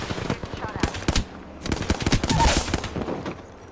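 Rapid bursts of gunfire from an Apex Legends ranked match, loud and close, with clustered automatic volleys and scattered single shots packed into a few seconds.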